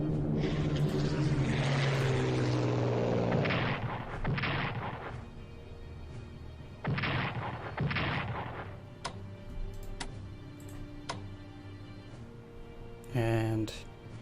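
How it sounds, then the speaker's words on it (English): A strategic bomber attack in the Strategic Command: World at War strategy game sounds as a droning aircraft with heavy explosions and bursts of fire, then quieter clicks and a short final blast, with someone talking throughout. "send in a strategic bomber here"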